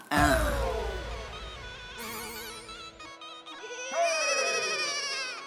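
A patriotic song plays from a mobile phone, a tinny melody with wavering, sliding tones and bright harmonics, loud and continuous with brief shifts in pitch.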